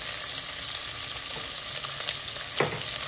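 Food sizzles and crackles steadily in a hot frying pan, a dense, close hiss with a few brief louder pops and stirring sounds near the end; nobody speaks.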